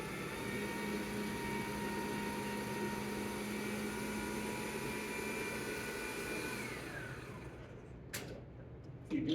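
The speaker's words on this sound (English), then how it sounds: "You just can leave the mixer." An electric mixer runs at a steady, loud whirring hum for about seven seconds while making lemon poppy seed sponge, then winds down and stops, followed by a few light clatters.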